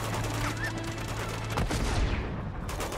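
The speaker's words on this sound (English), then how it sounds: "Still shooting at me though." Gunfire in the video game Uncharted 2: Among Thieves, a dense burst of rapid shots and impacts mixed with game sound effects and a tonal drone, all fairly loud and close.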